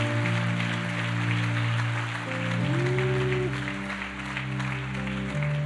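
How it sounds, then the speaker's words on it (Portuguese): Congregation applauding during a Sunday church service, steady crowd clapping under sustained organ or keyboard tones, the music continuing throughout. "Dê um aplauso a Ele."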